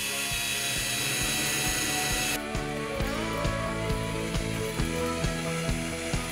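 A drill drives lag screws into wood for a rustic headboard: a whirring motor first, then a rapid, regular clicking and juddering as the screw bites, close and fairly loud.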